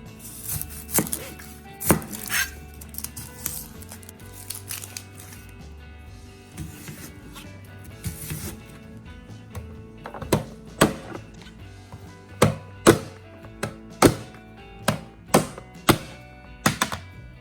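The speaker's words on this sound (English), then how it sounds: "Then I'm going to dice my onion." A knife dicing an onion on a cutting board: sharp wooden thunks, sparse and irregular at first, then a quicker, steady run of chops near the end, close and clear.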